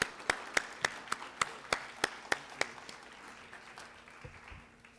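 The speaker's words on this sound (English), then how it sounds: "Please give a warm round of applause to one of our greatest whistleblowers, Professor Themba Maseko." Audience applause at an anti-corruption summit, heard as a series of evenly spaced sharp claps that gradually fade, fairly faint against a quiet room.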